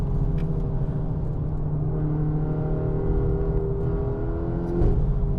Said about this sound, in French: Ouais, ça patine même en deux.